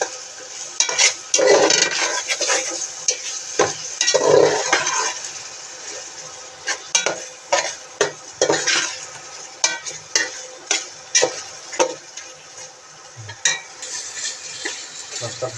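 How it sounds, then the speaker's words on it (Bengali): Hilsa fish frying in spiced masala in a pan, with a hot sizzle broken by repeated sharp spatula scrapes and clinks against the metal, close and fairly loud, with no one talking. "এখন মাছটুকু দিয়ে দেব। মাছটা দিয়ে ভালো করে একটু কষায় নেব।"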